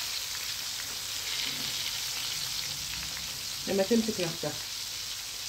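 Bori mullet fish frying in hot oil, a steady, soft crackling hiss that runs throughout, joined briefly by a voice speaking near the end.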